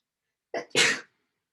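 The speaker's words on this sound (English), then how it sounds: "Oh, I gotta sneeze." A single close, sharp human sneeze with a short intake before the explosive burst, then silence.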